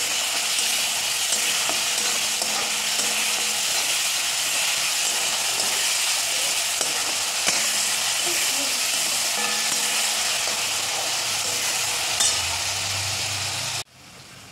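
Onions sizzle steadily in a hot pan after salt is added, a continuous bright frying hiss with occasional soft stirring clinks, close and alone without talk, cutting off abruptly near the end.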